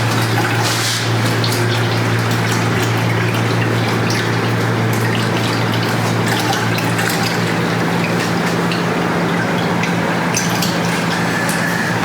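Water pumped into a still for distilling white sage, a loud continuous gushing flow over a steady low pump hum, unbroken throughout.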